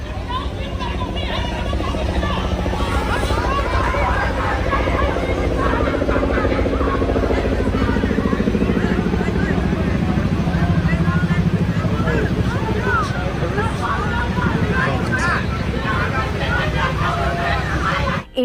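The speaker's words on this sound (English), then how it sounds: "Here comes the chopper." Steady rotor thrum and engine drone from a news helicopter circling over a mass shooting scene at a birthday party in Stockton, continuous and fairly loud throughout, with crowd babble and voices beneath it.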